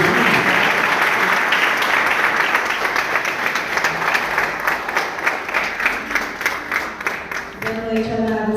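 Church congregation applauding a woman minister as she is welcomed, a dense, loud wash of clapping that thins toward the end as a voice begins speaking over it.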